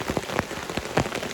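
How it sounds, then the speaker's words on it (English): Rain pattering on a camping shelter, heard from underneath as a steady close hiss with distinct heavier drop hits scattered throughout, no voices. "I don't have a lot of experience camping in the rain."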